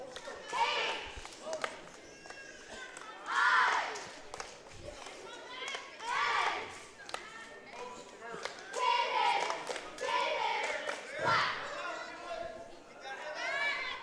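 A crowd at a high school varsity boys wrestling match shouts a spelled-out cheer in rhythmic group chants, with clapping and gym chatter around it.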